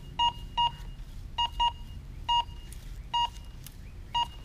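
Minelab Go Find 20 metal detector sounding a high, clean target tone in seven short separate beeps spread unevenly over a few seconds, outdoors beside an ant pile, with no talking.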